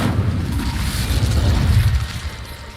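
A fire spell, Incendio, is cast in the wizarding video game Hogwarts Legacy, producing a loud, deep whooshing burst that rumbles for a couple of seconds and then fades, with no voices.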